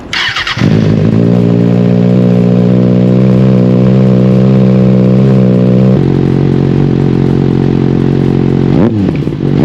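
A 2024 Kawasaki Ninja ZX-6R, just topped up with coolant, cranks and catches, then settles into a loud, steady idle that drops to a lower tone partway through before the engine is cut.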